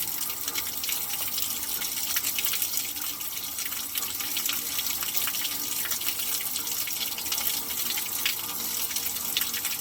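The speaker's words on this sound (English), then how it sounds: "Turning the hose on." A garden hose runs after being turned on, giving a steady, close rush of flowing water that is continuous and unbroken, with no speech.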